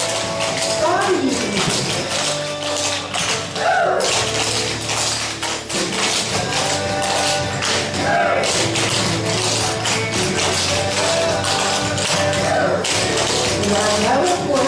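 Clog dancers' taps and stamping steps at a cloggers' show, a steady rhythmic patter of shoe taps running under loud country-style music while a caller talks through the routine.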